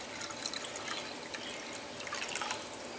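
Tap water runs steadily into a lightweight camping cookpot from an Optimus Weekend Terra HE cookset, a continuous close hiss and trickle with faint splashy variation and no talking.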